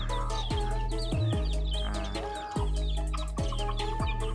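Green junglefowl cluck repeatedly at close range, sharp descending calls overlapping in a busy run of short notes with faint chirping around them.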